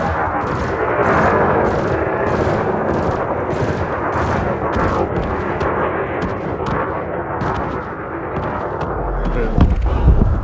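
Burst laser on a spacecraft in Elite Dangerous fires in a rapid, evenly spaced run of sharp zapping pulses over a constant loud engine-like rumble, the volley thinning out in the second half.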